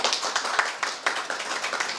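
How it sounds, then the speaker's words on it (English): Audience applauds at a hospital launch event honouring an ophthalmology department, a close, dense burst of many hands clapping with irregular peaks, fading slightly toward the end. "So let's give him a round of applause again"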